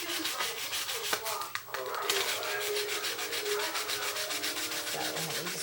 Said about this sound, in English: I'm just roughly just sanding this down.